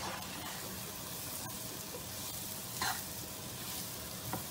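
Lentils stirred in a pan for a Bangladeshi dal chorchori, with a steady soft sizzle and gentle scraping, a couple of brief louder swishes near the end, fairly quiet and close.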